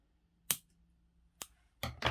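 Sharp scissor snips cut a knitted yarn tail, a single crisp snip followed by another, then two quicker back-to-back cuts, close and clear in a quiet room.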